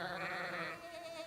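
One faint, short sheep bleat, wavering and nasal, heard briefly on its own during a church children's program skit.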